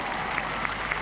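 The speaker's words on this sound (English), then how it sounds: "The crowd now clapping every fence" Crowd clapping at a show jumping derby at Hickstead as a rider goes clear, a steady wash of applause with a few sharper claps standing out.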